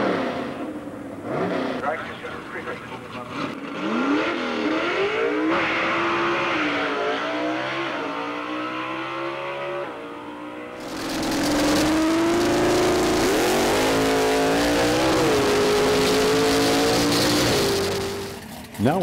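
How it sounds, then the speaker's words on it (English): Gasser drag car engines rev hard at a drag strip, including a Willys being cranked up, with rising and falling revs that turn into a louder sustained roar partway through, under a voice talking throughout. "And here we see Fred Bear cranking up his Willie."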